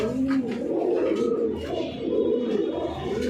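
A rare high-flyer pigeon coos up close in soft, repeated throaty rolls, steady and continuous over about three seconds without any talking.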